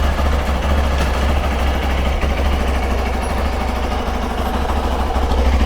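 A motorcycle idles in first gear while up on its center stand, producing a steady, loud, close engine drone with an even low throb that keeps going throughout.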